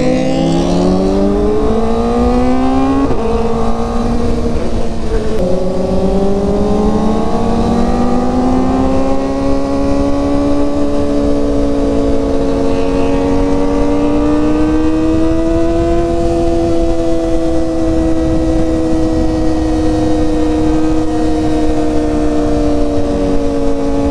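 A Yamaha XMAX scooter engine drones loudly and steadily on a morning ride alongside Kawasaki ZX4RR and ZX6R bikes, its pitch swelling as it accelerates, with heavy wind rush throughout and no talking.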